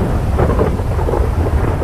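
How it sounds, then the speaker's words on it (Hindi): Heavy rain and rumbling thunder in the Free Fire video game, a loud, steady wash of downpour with deep low rolling thunder throughout, no voices present. "और ऊपर से ये बारिश"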